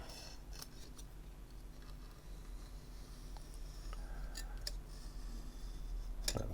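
Several quiet, crisp snips of scissors cutting tape near a Nintendo 64 console during an RGB mod install, scattered irregularly over a low steady hum.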